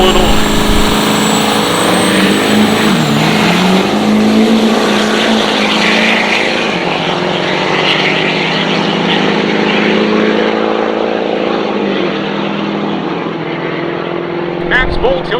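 Diesel pickup trucks (Duramax, Powerstroke, Cummins) drag racing roar loudly and steadily at close range, engines droning and shifting in pitch, with a voice talking over them.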